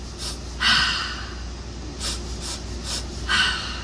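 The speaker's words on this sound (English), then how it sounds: "you're gonna do 3 sips in through your nose, and then 1 exhale out your mouth" A crowd breathes together in a live amphitheater, with short sniffing inhales through the nose and breathy exhales out the mouth, several airy bursts in a rhythmic pattern over a low steady hum.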